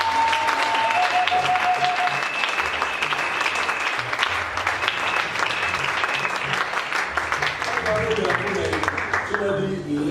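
Church congregation in a French-language prayer service claps and cheers in sustained applause for about ten seconds, dense and loud throughout, with scattered voices and a musical tone running beneath.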